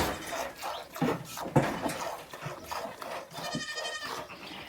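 Goats on a small farm bleat repeatedly in loud, wavering cries at close range, several calls overlapping in quick succession with a brief quieter gap between bursts.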